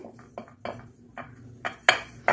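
Several sharp metallic clanks and knocks of a pot being handled and greased with ghee, irregular and close, growing louder toward the end.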